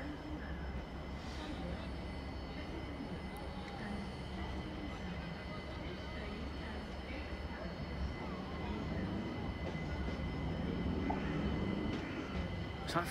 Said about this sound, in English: we have another London Overground service coming in